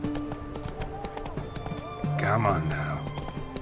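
Roach, the horse in The Witcher 3, gallops with rapid hoof clip-clop under a voice, with game music and ambience layered around it.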